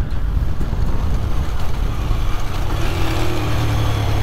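A Suzuki GN 125 motorcycle cruising in top gear, its engine a steady low drone mixed with heavy wind rush across the microphone, close and continuous with no voices.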